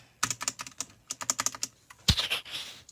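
Keys clack on a wireless SK61-style mechanical keyboard in quick, uneven bursts of typing with a short pause between runs, close and fairly quiet.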